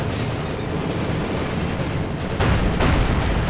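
Tank battle in Company of Heroes 2 with T-34s and a Panzer IV: a dense, continuous wash of loud gunfire and explosions, swelling into a heavier, booming blast near the end.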